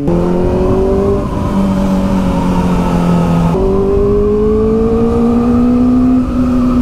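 A Kawasaki Z900 motorcycle rides along the road, its engine droning loud and close with a steady rising pitch, a brief dip at a gear shift, then climbing again over constant wind rush.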